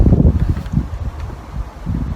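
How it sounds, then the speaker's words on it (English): Gusty outdoor wind buffets the microphone at an air rifle range, producing loud, uneven low rumbling bursts with no other clear sound. "and it is a bit windy today,"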